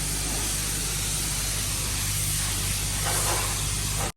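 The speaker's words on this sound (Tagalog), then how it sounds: "Spray lang para matanggal lang yung mga asin-asin." Spray of water hosing road salt off a vehicle in Canada, a steady loud hiss that runs unbroken for about four seconds and then cuts off abruptly.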